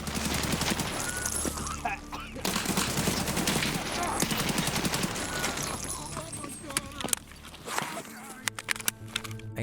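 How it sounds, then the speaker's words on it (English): Gunfire in the shooter game Escape from Tarkov, with bursts of automatic shots and sharp single cracks over busy game noise, someone talking over parts of it. "I hold the angle, I hit a few shots because I can see the blood splatter on the wall behind him"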